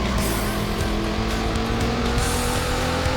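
Racing car from a 1990s Sega Saturn racing game, its engine droning steadily and its tires squealing through a corner, loud and continuous over an energetic soundtrack.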